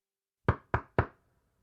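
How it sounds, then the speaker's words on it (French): Three sharp knocks sound on a door in quick, even succession, close and crisp against silence. "les 2 sœurs heurtèrent à la porte."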